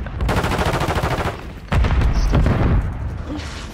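In a shooter video game, heavy booming blasts and dense rapid gunfire crash together at close range, a loud, sustained barrage with one sharp jolt midway, as grenades go off amid the shooting.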